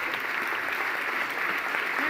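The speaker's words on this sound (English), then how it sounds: "Let's give them a clap." An audience claps for a debate panel at a London planning event, with steady, dense applause filling the room throughout and no break.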